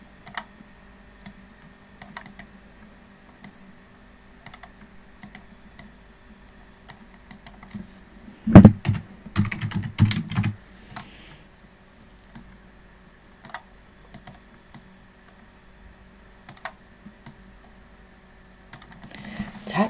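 Typing on a computer keyboard while working in Canva, with light scattered key taps throughout and a denser cluster of clicks near the middle, set against a quiet background hum.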